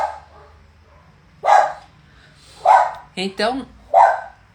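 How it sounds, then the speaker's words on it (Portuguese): Matilda the dog barks four times in short, loud bursts, the last two close together, with a voice speaking briefly between them in an indoor room. "Aí ela fica latindo"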